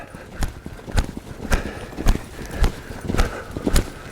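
Hooves of a horse loping under a rider thud in a steady three-beat rhythm, close and fairly loud, with a faint voice now and then.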